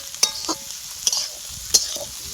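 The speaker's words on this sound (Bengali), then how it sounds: "এটা ভালো করে ভেজে নেব" Soaked rice frying in oil in a pan for fried rice, a steady sizzle broken by regular scraping stir strokes close up, with no talk.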